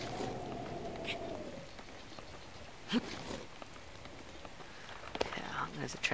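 Rain falls steadily in The Legend of Zelda: Breath of the Wild, a soft continuous hiss that runs the whole time, with a few brief louder taps and rustles over it.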